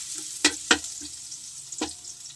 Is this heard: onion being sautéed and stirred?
yes